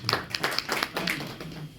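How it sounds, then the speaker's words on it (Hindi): A small audience at an agricultural product meeting gives a brief, scattered round of applause, with light, quick claps fading after about a second. "इनके लिए तालियां बजाइए"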